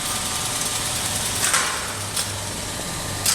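A Johns and Waygood lift motor-generator runs in a machine motor room with a steady, close mechanical hum, a low droning undertone and a few brief hissy clicks.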